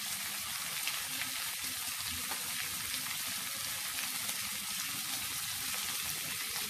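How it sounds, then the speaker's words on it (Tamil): Mango pieces sauté in oil in a pan for mango and brinjal kara kuzhambu, giving a steady, even sizzling hiss with faint stirring scrapes, soft and close throughout. "அந்த மாங்காவை எடுத்து போட்டு மாங்காவையும் சேர்த்து வதக்கிடலாம்."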